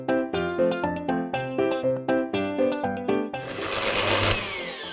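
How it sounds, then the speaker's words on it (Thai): Electric mixer beating shortening and butter together for a cake: a loud motor whine that pulses in a quick, even rhythm, then changes into a rougher, steady whirr. "เดี๋ยวเราจะตีเนยขาวกับตัวเนยสดให้เข้ากันก่อน"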